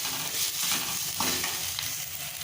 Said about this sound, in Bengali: দিয়ে ভাজবো মশলাটা